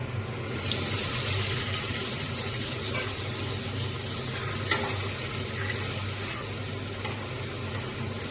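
Water rushes into a hot pan of frying ginger for chana dal with a loud hissing surge, then settles into a sustained bubbling sizzle.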